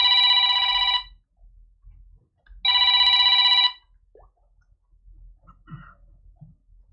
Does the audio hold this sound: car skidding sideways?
no